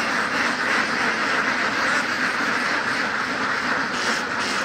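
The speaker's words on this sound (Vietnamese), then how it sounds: "vịt nó đang ở dưới kênh nha các bạn." A large flock of egg-laying ducks on a farm canal keeps up a dense, loud, continuous chorus of quacking with no pauses.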